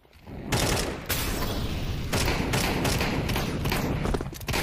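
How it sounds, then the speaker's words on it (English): Rapid gunshots in Counter-Strike 2: a string of loud, close bursts and single shots with heavy thuds, firing in quick succession over nearly five seconds with no talk. "I fucking shot someone"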